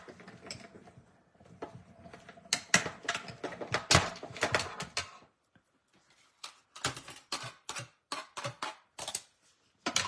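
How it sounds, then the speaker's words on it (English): Small tabletop stamp, cut and emboss machine cranking paper through to cut hearts, with a series of clicking, ratcheting mechanical bursts, a pause, then a fresh run of evenly spaced clacks, close and fairly quiet. "I'm just going to run this through my mini stamp and cut and emboss machine and cut our hearts"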